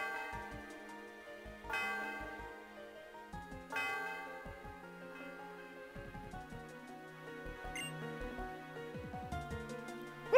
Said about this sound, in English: Yeah, I need to ring that bell right now.